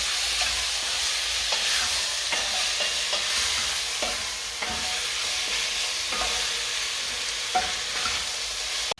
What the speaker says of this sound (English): we need to cook this meat and brown it a little bit